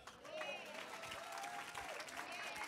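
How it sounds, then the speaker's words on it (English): A church congregation claps at a fairly low level, a busy steady patter of hands with voices rising and sliding over it throughout. "Stop clapping."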